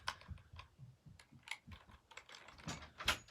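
Fingers type on a GK61 60% mechanical keyboard, a steady stream of quiet, close clicky keystrokes with uneven rhythm and a few louder presses, no talking.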